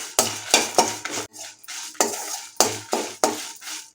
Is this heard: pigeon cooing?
no